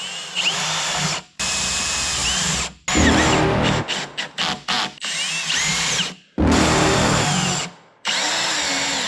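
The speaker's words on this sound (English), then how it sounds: "we're still gonna go ahead and add some roofing screws just to ensure that it stays in" A power drill drives roofing screws during a vertical blade lumbermill build, with loud, close whirring bursts that stop and restart, including a run of short rapid pulses in the middle. No voices are heard.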